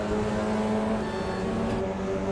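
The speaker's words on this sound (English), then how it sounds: "Let's just listen to the engine." A race car engine in a racing video game at Monza holds a steady, high, buzzing drone with strong tonal harmonics, loud and continuous, with no talking.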